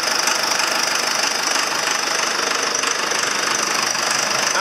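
The engine of a 6200 runs steadily at a loud, close idle with a continuous knocking rumble and no talk.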